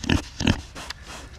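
Pigs on a small homestead farm grunting up close, two loud snorting grunts in quick succession followed by softer, fainter grunts and snuffles.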